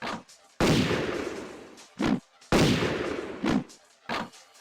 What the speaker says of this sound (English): they better be a gunshot sound effect somewhere on this menu.